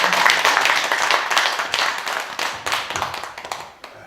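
An audience at a Buddhist sutra lecture applauds in a burst of dense clapping that starts strong and gradually thins out over a few seconds.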